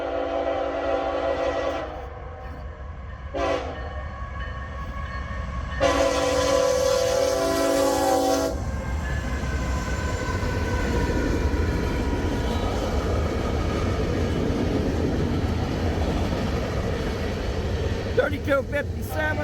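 CSX freight train passing in Wickliffe, Ohio, opening with several loud horn blasts, then a long steady rumble of rail cars rolling close by, with a person talking over it.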